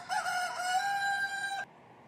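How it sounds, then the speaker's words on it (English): A rooster crows once in a single loud, close, drawn-out call lasting about a second and a half, then stops abruptly, with no talk. "Well, let's hear the rooster sound."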